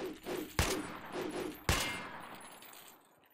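Gunfire from a machine gun in the video game Resident Evil 4 with a giants mod: two sharp, loud shots about a second apart, each trailing off in a reverberant decay over quiet background.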